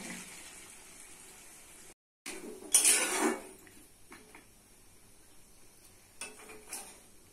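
Potatoes dropped into a pan of fried spices (cumin, coriander, salt) and stirred, a short, faint sizzle and a scraping, clattering burst after a brief gap, then quieter sizzling in the kitchen.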